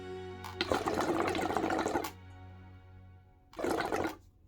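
A hookah under test gurgles with two loud bursts of water bubbling, the first about one and a half seconds long and the second shorter, separated by a quiet pause with a steady low hum.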